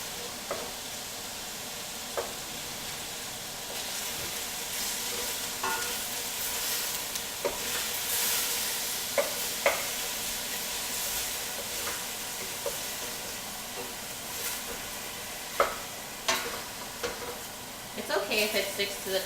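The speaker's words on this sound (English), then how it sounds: "The pork is sizzling now." Pork sizzles steadily in a hot pan for a home-made chicken ramen, a continuous frying hiss broken by occasional scrapes and knocks of stirring, louder clatter near the end.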